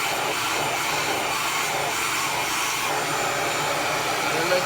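Revair reverse hair dryer running steadily, a loud, even whooshing blower roar that holds constant throughout with no talking over it.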